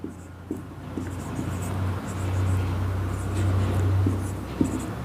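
A pen scratches across paper in short, faint strokes during a maths lesson, set against a steady low hum.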